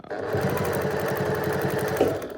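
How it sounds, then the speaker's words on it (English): A sewing machine stitches bias tape along the edge of a square pot holder, its needle running in a fast, even mechanical chatter at close range, steady throughout with a small bump near the end. "I'm going to stitch all the way to about a 1/4 inch from the edge"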